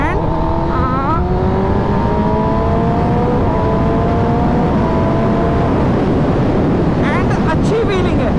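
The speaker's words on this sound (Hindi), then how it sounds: "तो गाइस बाइक चल रही है अच्छी, एक्चुअल में स्मूथ है बट थोड़ा सा हैवीनेस है इसमें" A heavy motorcycle fitted with a slip-on exhaust is ridden with loud, continuous engine drone and strong wind rush, the pitch climbing and shifting through gears.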